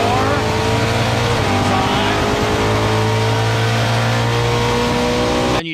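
A loud race car engine screams steadily through its gears, the roaring pitch climbing and resetting with each shift up to fifth and then held flat out, close and continuous until a sudden cut at the end.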